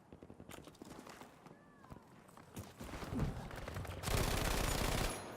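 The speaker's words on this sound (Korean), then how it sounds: "그냥 아무 생각 없이 갈기는 총이네" An M1922 submachine gun fires in the shooter game Battlefield V, loosing rapid sustained bursts that build to a dense, loud stream of shots amid other battle noise.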